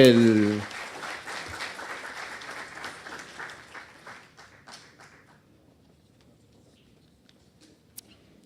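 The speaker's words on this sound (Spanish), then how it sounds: "le pido un fuertes aplausos" An audience at a disaster-risk seminar claps for a diploma presentation, scattered applause thinning into a few individual claps and fading to near silence, with a brief voice at the very start.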